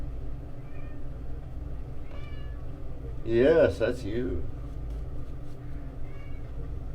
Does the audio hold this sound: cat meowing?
yes